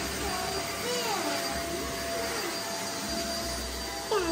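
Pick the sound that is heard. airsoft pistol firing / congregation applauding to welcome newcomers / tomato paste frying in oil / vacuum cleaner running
vacuum cleaner running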